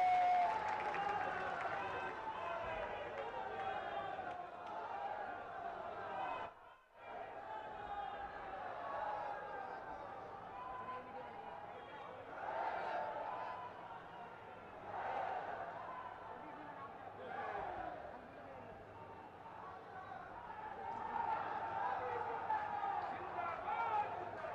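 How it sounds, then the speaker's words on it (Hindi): A large standing audience applauds to welcome the Prime Minister at a development-project inauguration event, sustained loud clapping and crowd noise that briefly dips, then swells again in waves. "सभी लोग खड़े होकर जोरदार तालियों से उनका स्वागत करें"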